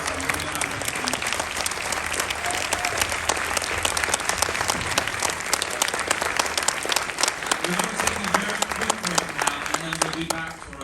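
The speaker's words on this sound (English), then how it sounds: "I just want you to give a huge round of applause to Team" A premiere crowd applauds the film team after a world premiere screening of New York Ninja at a festival, with dense, continuous clapping filling a theater for several seconds and some cheering mixed in.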